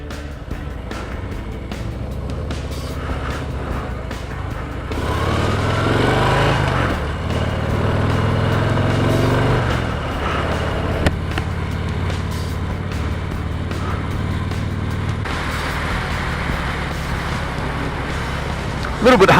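Steady low engine rumble from a 2019 Harley-Davidson FXDR motorcycle, idling close by with a swell in loudness midway, alone without talk.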